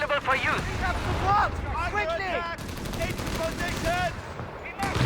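Rapid bursts of machine gun fire in the World War II strategy game Company of Heroes 3 clatter loudly and near, repeating in volleys under ongoing game effects while someone talks over them.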